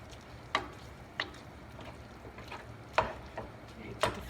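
Cooking meat for sloppy joes stirred in a pan, with a few sharp utensil scrapes and taps against the pan at irregular intervals over a faint, steady background hiss.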